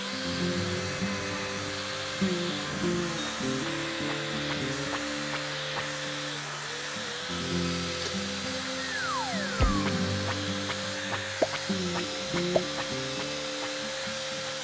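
Sanding inside a wooden bird call imitating the Lambu Pé Roxo, a continuous rough scraping with no talk over it.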